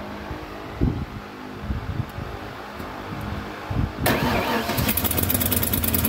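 A 1993 Ford F-series truck with a broken ignition column is cranked by toggling the switch with a screwdriver: a few short starter bursts, then the engine catches and settles into a loud, steady idle up close.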